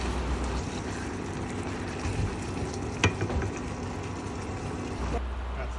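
Sausages and eggs sizzling in a pan of spice mix, a continuous crackling fry with stirring scrapes and a sharp clatter midway, loud and close.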